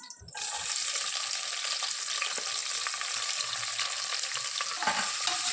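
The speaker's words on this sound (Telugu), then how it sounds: "ఇవి వేగిన తర్వాత రెండు పెద్ద సైజు ఉల్లిపాయ ముక్కల్ని వేసుకుంటున్నాను" Two large onions' worth of pieces drop into hot oil already frying whole spices for egg biryani, bursting into a loud, steady sizzle that carries on close and unbroken with no voices.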